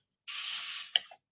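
A small handheld mist sprayer releases water as a fine mist, a close, steady hiss lasting most of a second, then a short click and a brief trailing puff as the trigger releases.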